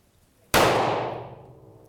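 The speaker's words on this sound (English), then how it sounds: "we're going to give it a couple more shots here" A single handgun shot at a shooting range cracks out sharply after a brief silence, then its loud report rings and decays gradually over more than a second.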